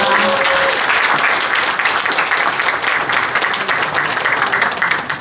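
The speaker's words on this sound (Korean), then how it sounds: "다시 한번 큰 박수 보내주시기 바랍니다" Large audience applause at a Korean book launch event after a vocal performance, dense and steady throughout, loud and close with no talk over it.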